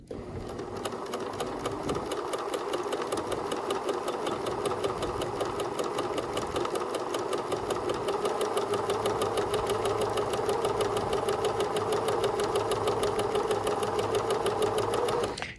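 A sewing machine back-stitches and then sews a waistband closed in one long, continuous run of even, rapid needle clatter over a low motor drone, steady and fairly close throughout.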